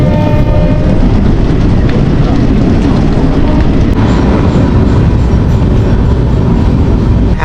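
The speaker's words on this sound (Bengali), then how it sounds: "এই ট্রেনটা সিধা যাচ্ছে এর্নাকুলম।" Train number 66602 bound for Ernakulam in Kerala runs along, a loud, dense, steady rumble of wheels and carriage noise heard from on board, unbroken throughout.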